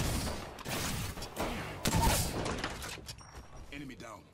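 Gunfire in the Apex Legends video game, bursts of shots and impacts in rapid clusters, moderately loud, mixed with game effects and some voice chatter.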